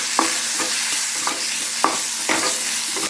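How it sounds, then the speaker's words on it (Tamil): Mustard seeds spluttering in hot oil for Mysore rasam, a steady close sizzle broken by sharp irregular pops and crackles. "கடுகு நல்லா பொரிஞ்சிச்சு"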